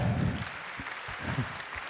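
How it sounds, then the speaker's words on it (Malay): Applause from a crowd, a dense wash of clapping that stays steady for a couple of seconds, with a few louder low bursts mixed in. "Tepukan untuk rakan-rakan kita."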